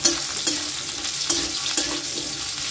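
Potatoes fry in a pan for a vegetarian dish, a steady close sizzle with a few soft scraping stirs breaking through at irregular moments.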